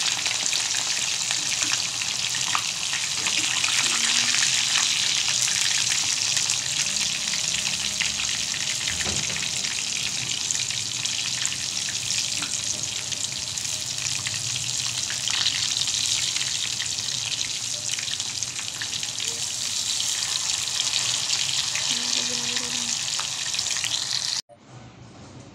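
Tofu frying in a pan for pork adobo: a loud, continuous close sizzle with hissing spatter runs steadily for the whole stretch, alone without speech, before cutting off abruptly near the end.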